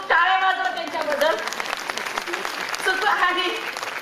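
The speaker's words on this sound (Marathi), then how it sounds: "खूप खूप टाळ्या वाजवा त्यांच्याबद्दल" Audience applause at a women's Buddhist Dhamma gathering: scattered clapping that swells and fades under a voice speaking over the crowd.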